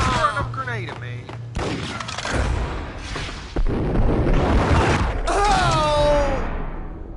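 Gunfire, bursts and explosive booms from a Max Payne shooter game, including a grenade, rattle and thud loudly throughout, with voices talking over the combat noise.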